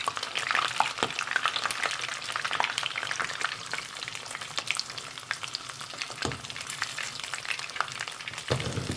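Fish fries in hot oil with a dense, continuous crackling sizzle and scattered louder pops, close up and with no talking.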